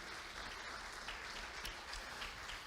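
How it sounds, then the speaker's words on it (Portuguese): A church congregation applauding, a dense, even patter of clapping held at a distance and fairly quiet, with no voices over it. "Pode aplaudir ao Senhor por isso."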